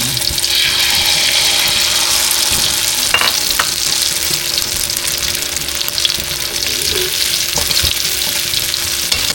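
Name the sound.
eggplant with egg frying in hot oil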